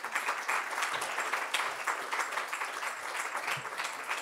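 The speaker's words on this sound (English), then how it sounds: "Please come to me and give a warm applause." Film festival audience applauds panel guests at a talk session, a steady, even wash of many hands clapping at moderate distance, with no voices over it.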